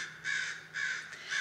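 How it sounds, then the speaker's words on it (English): A crow caws three times in an even rhythm, each call harsh and fairly loud, with short quiet gaps between them and no voices. "The crow is agreeing."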